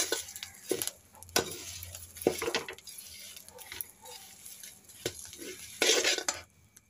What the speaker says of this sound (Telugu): బాగా ఫ్రై చేయాలి. ఈ విధంగా క్రిస్పీగా వచ్చేంత వరకు వేయించుకోవాలి.